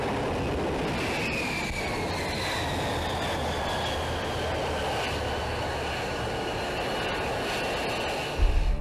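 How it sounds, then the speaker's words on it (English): Jet aircraft coming down for a vertical landing on an aircraft carrier deck, a loud continuous engine roar with a slowly falling whine, steady throughout and alone, with a brief low thump at the very end. "the aircraft lands vertically or with slight forward momentum, which is called the shipborne rolling vertical landing technique"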